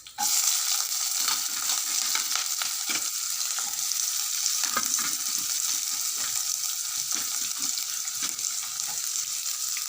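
Steady, loud sizzling of onions frying in hot oil for egg gravy, continuous and close, with occasional faint clinks of stirring.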